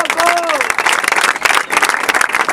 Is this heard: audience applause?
yes